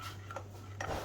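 Spoon stirring a fish sauce mixture in a bowl for a Thai Yum Kanom Jeen dish, two brief light scraping clinks, quiet and close with no talk.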